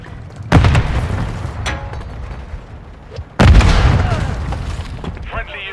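Two heavy frag grenade blasts thunder in Modern Warfare 3 on the Scrapyard map, each a loud, deep boom that rolls off slowly, the second about three seconds after the first.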